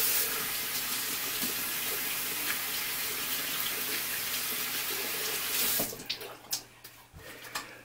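Tap water running steadily from a faucet for several seconds to wet hair, a close continuous rush that stops abruptly, leaving a few splashes and drips.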